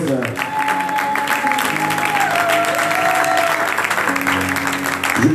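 A church congregation applauds and cheers in a dense, loud, sustained wash to welcome Sister Rose, with voices calling out and a held tone rising above the crowd throughout.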